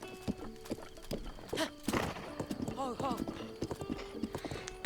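Horse in the Zelda Breath of the Wild video game, clopping hooves in quick rhythmic beats with a whinny in the middle, close and clear, as someone talks over it.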